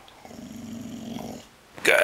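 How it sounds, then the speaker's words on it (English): A pet dog gives a low, soft growl on command, a rumbling stretch lasting about a second, followed by a person's voice speaking loudly right at the end. "Okay, growl."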